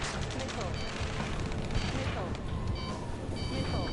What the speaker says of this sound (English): Return fire! Sierra 2, hold position! We're cut off! Taking fire! We're pinned down! Shoot back!